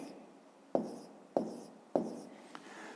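Pen or pencil writing numbers by hand during a fifth-grade math exercise, with three distinct scratchy strokes at a steady pace and a faint tap at the end, close and quiet.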